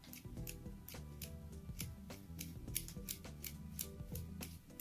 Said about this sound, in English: It's actually grinding on the case when it hits it.